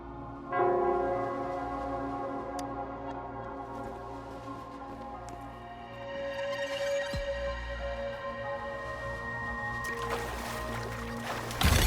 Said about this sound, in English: It's the bell.